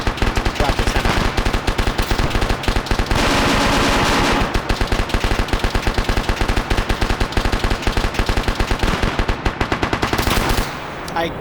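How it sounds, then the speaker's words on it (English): Sustained bursts of light machine gun fire in a PvP raid video game, rapid rhythmic shots running nearly continuously with brief pauses, loud and close. "I cannot believe he has an LMG"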